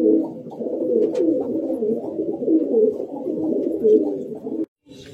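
A Kalsira Madrasi high-flying pigeon held in a hand gives a loud, close, continuous cooing call with a rolling, throaty pulse that lasts several seconds before stopping abruptly near the end.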